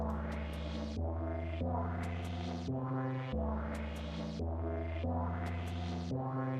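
Synth chords run through a Shaper Box 3 liquid shaper and filter pulse in a steady repeating pattern, each sustained chord swelling and cut rhythmically, with a deep low end and sparse high ticks.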